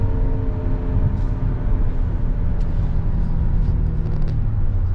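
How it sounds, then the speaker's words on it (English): Steady low rumble of a 2022 Hyundai Palisade Calligraphy's engine while driving, a continuous cabin drone with road noise and no voices. "It's a very honest sound to the engine."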